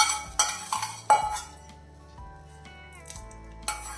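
Hot tempering of mustard seeds, dried chili and curry leaves is poured into a tomato curd pachadi, with soft sizzling, a few spoon and pan clinks and scraping, quiet and close.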